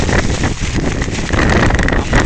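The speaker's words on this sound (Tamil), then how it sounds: "கட்டும் மழை இப்படி அலைய அடிக்குது பாருங்க காற்றுகள்." Strong storm wind roars and buffets the microphone near a bridge during a cyclone at Thondaimanaru, with waves surging underneath; a loud, continuous broadband rush that swells and dips without pause.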